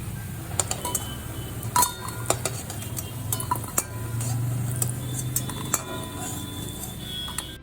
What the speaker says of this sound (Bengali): বড়াগুলো ভালো করে উল্টে পাল্টে ভেজে নিয়েছি। এখন আমি বড়াগুলো নামিয়ে নেব।